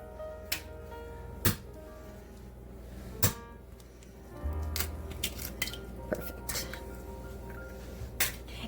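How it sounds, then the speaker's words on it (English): A utensil clinks and taps against a dish while eggs are mixed into a spinach and cottage cheese quiche filling on a tortilla shell. The knocks come in a few sharp, scattered hits over a quiet, soft squishing of the stirred mixture. "I like to mix everything in because I like to check my eggs as well."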